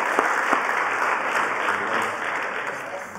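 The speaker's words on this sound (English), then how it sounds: "a round of applause, everyone, for Jalila Essaïdi from Bio-Art Laboratories" An audience claps steadily for a guest speaker from Bio-Art Laboratories at a talk event, a dense, even round of applause heard alone at moderate level.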